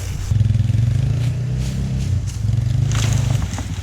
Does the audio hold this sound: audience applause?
no